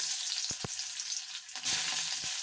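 Onions frying in hot mustard oil after panch phoron for a village-style Odia fish curry: a steady broadband sizzle throughout, rising louder near the end, with a few soft stirring knocks and no talk.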